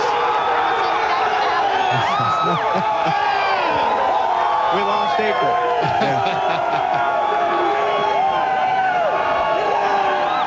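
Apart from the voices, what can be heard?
NASCAR race crowd cheering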